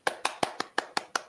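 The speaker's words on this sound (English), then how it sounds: "I just got some applause from the ThunderPlains tech" A single person claps steadily, seven crisp, evenly spaced hand claps close to the microphone in a quiet room, given by a technician at the ThunderPlains 2020 tech conference.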